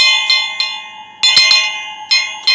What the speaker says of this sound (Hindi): जो टाली है इसकी अलग टून है